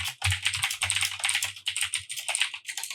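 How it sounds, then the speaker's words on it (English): Rapid, continuous clicking of fingers typing on a computer keyboard, close and crisp with short pauses between bursts, with no talk over it. "Oh, that keyboard sound."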